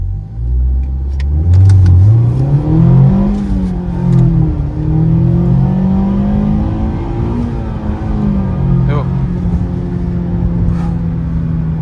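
A 2020 Mazda MX-5, a rear-wheel-drive sports car, accelerates hard from 0 to 100, engine note climbing loud and close through several gear changes, each shift dropping the pitch before it rises again.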